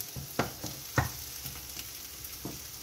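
Shallot and purple artichoke with thyme sizzle in a pan while being stirred, a soft continuous frying hiss punctuated by several close utensil scrapes and knocks, with no talk.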